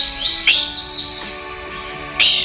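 An evening grosbeak gives clear, loud chirping calls, one sharp call early on and another near the end, over steady background tones with no talk.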